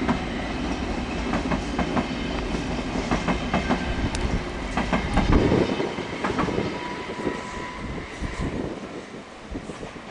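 A Stadler KISS double-deck train runs past on the line toward Vác at the Rákosrendező yard entrance, a steady rolling rumble with clickety-clack wheel beats and faint squeals, fairly close and continuous.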